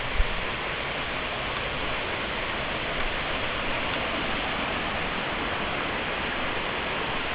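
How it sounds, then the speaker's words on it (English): A cascade waterfall on Victoria Creek in the Grose Valley gives off a steady, even broadband roar of falling water, unbroken and constant, with no voices over it. "That's one of the better cascade waterfalls I've seen."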